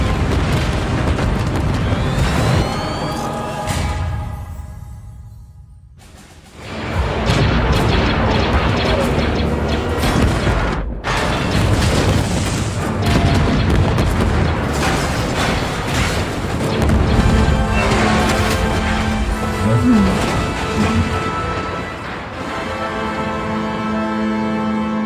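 Loud, near-continuous explosions and heavy artillery fire from the animated series Star Wars: The Bad Batch, booming and rumbling in dense waves with a brief lull, mixed with dramatic score and occasional voices.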